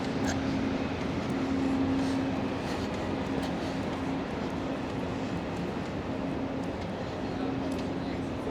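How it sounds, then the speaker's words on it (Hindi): Rumble of a GO train running on the railway line below a downtown Toronto walkway in winter, a steady broad wash of rolling noise with a faint humming tone, heard from above at moderate distance. "और ये रेलवे लाइन है नीचे, गो ट्रेन के लिए।"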